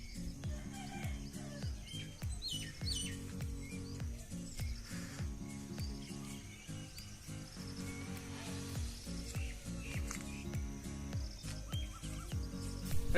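Pigeons in a homemade low-cost cage coo and rustle in soft, repeating low calls over a steady background hum, with no talk.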